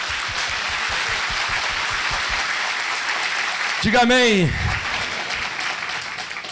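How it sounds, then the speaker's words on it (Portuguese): A church congregation applauds loudly for several seconds as a dense, steady wash of clapping. A voice then speaks briefly over the fading applause. "Aplauda bem forte ao Senhor."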